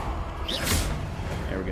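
A Confringo fire spell cast in Hogwarts Legacy, a short bright whoosh and burst over game ambience, with a voice speaking just before it.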